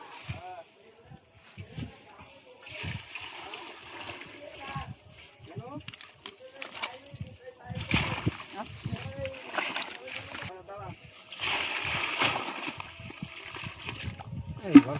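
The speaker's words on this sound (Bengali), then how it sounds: "জল ঢেললাম।" Water poured out beside a pond: scattered splashes and sloshing come in uneven bursts, close by, while people talk throughout.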